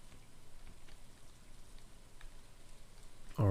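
Steady soft rainfall patters on surfaces in Stardew Valley, a quiet even hiss with scattered drops, ending with a brief louder low thump.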